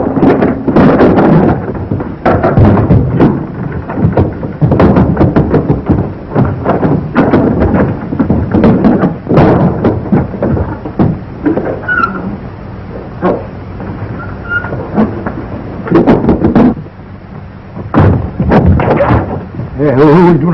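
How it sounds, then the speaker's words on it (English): Gunfire rings out in an old western film: many sharp, booming reports, some in quick volleys and others spaced apart. They sound muffled and echoing over rough, lo-fi ambience for the whole stretch. "who's doing all the shooting?"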